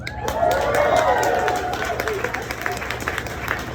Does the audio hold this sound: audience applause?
yes